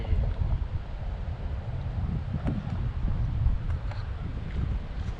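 Breeze blowing through a mangrove forest at Ban Kalong, Samut Sakhon, a steady low rushing wind with rumbling buffeting against the microphone throughout.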